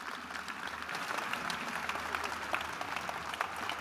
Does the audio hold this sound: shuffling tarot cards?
no